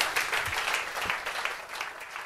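Applause from a seated audience at a French HR and purchasing gala round-table, a steady wash of many hands clapping at moderate volume for a couple of seconds.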